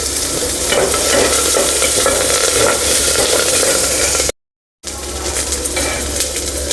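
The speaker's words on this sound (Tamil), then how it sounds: "கருவேப்பிலை வரமிளகாய் வதங்கின உடனே ஒரு பச்சை மிளகாய் கீரி ஆட் பண்ணுறேன்" Curry leaves, dried red chilies and a slit green chili fry in hot oil, making a loud, close, dense sizzle with a spatula scraping and stirring throughout. The sound cuts out completely for a brief moment partway through.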